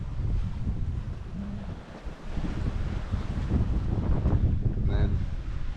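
Wind buffets the microphone aboard a sailing boat off the Norwegian coast, with waves washing and rushing beneath in a continuous, fairly loud blustery roar.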